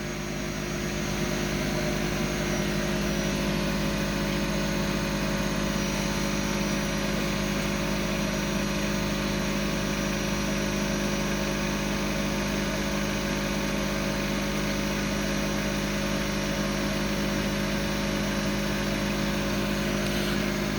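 Two spin dryers, a Ninja and a Panda, run side by side at matching speed, giving a loud, steady motor hum and drone with constant tonal whine that holds unchanged throughout.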